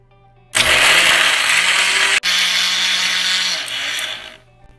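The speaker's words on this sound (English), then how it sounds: "Now let's blend this well." Kitchen blender grinding roasted items with garlic and salt for tamarind pachadi, a loud close whirring roar that starts abruptly, briefly cuts out, then runs on and winds down after about four seconds.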